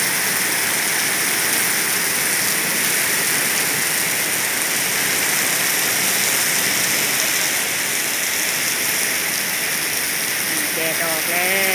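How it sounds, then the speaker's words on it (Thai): Heavy rain pours steadily over a rural school in Thailand, a dense continuous hiss of water on surfaces, loud and unbroken throughout with no voices heard. "คุณครูกลับไม่ได้ก็ นั่งรอให้ฝนหยุดก่อน"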